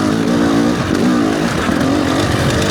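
300cc enduro motorcycle engine pulling at low RPM with the clutch feathered, a loud, close, throbbing rumble with slight rises and dips in pitch as it lugs along.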